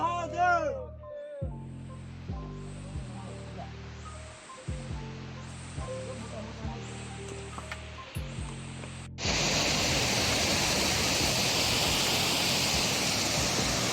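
Clear mountain stream water rushing steadily along a high-altitude pilgrimage trail in the Himalaya, at first softer beneath chanting and talking voices, then swelling into a loud, close, continuous roar of flowing water.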